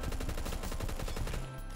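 An FAL battle rifle firing continuously in the Phantom Forces video game, loud and close, a rapid unbroken stream of shots with no pauses.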